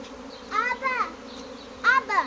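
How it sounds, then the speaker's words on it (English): A steady drone of a bee swarm buzzing inside a new hive box runs underneath as someone speaks in two short bursts over it. "maybe the audio can just hear the sound of the buzzing of the bees"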